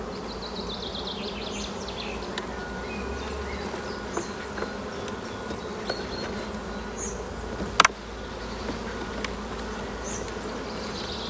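Honeybees hum steadily around an open hive as frames are inspected during the addition of brood boxes. The buzzing is close and continuous, with occasional louder passes and a brief sharp knock or click partway through.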